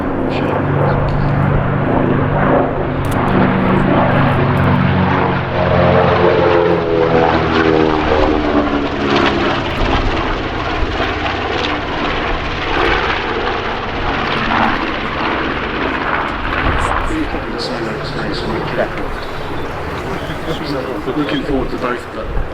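Propeller aircraft flying past at the Flying Legends airshow, a loud droning engine roar that shifts in pitch as it passes, with people talking over it.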